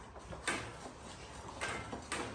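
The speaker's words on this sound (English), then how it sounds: "And closing the doors." Dog crate doors swung shut and latched during a feeding session, giving a few sharp metallic clacks spread across a couple of seconds over a low room hum.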